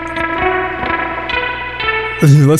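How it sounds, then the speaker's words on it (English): An electric guitar played through a 1966 Fender Twin Reverb blackface amp rings out in a sequence of plucked notes with reverb tails, ending in a louder wavering bent chord. "This is a Fender Twin Blackface Twin Reverb. Fender Twin Reverb amp."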